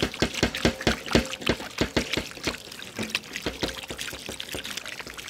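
Water from a pipe pours steadily while deer meat is washed outdoors in a village, a continuous splashing stream with irregular spatters and drips, fairly close and moderately loud.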